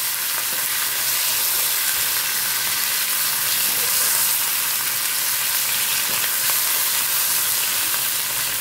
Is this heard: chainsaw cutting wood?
no